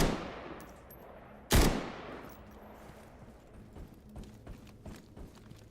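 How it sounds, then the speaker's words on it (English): One sharp, loud gunshot cracks into swamp bushes in STALKER Gamma, followed by a string of fainter, scattered shots and distant pops over quiet ambience. "At this point, I'm just firing into the bush to get him moving."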